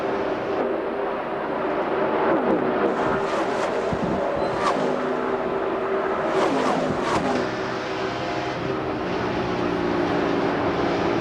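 Jeff Burton's stock car at the 1999 Brickyard 400 in Indianapolis, heard on board as a loud, steady engine drone with shifting pitch and wind roar, sustained throughout without talk.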